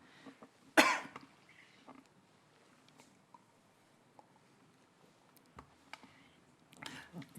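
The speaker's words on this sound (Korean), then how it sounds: "좀 부담되면 이렇게 기침이 나오는 거 양해해 주시기 바랍니다" A preacher gives one sharp, loud cough near the start of a Sunday church service, and the rest stays quiet apart from faint clicks and small rustles.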